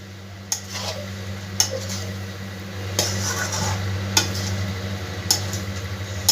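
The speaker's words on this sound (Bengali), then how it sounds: "এবার মশলার সাথে খুব ভালো করে আমি মিশিয়ে নেব সয়াবিনটা" Soybean chunks are stirred into spices and yogurt in a pan over a low gas flame. A spoon clinks and scrapes against the metal in regular, distinct knocks over a quiet background hum.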